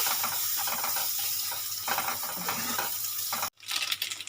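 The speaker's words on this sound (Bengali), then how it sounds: "এক চামচ লঙ্কার গুঁড়ো দেবো ভেজে রাখা মশলা দিয়ে সুন্দরভাবে সবগুলো কষিয়ে নেব" Spices and chili powder for Dhaba-style egg tadka fry in a pan with a loud, close, continuous sizzle while the mixture is stirred. A sudden break follows, then the sizzle resumes with scraping.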